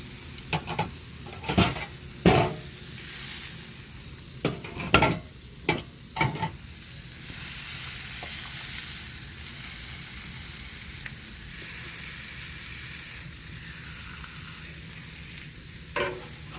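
Food sizzles steadily in a frying pan at a campsite, with several loud scraping stirs early on, then a continuous close frying hiss with only occasional stirring.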